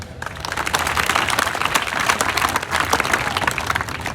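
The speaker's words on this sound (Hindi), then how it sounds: "जोरदार ताली सारे स्टाफ के लिए, सर के लिए" Indian school audience clapping loudly for the staff and a teacher, a dense, continuous burst of applause close by, with little talk.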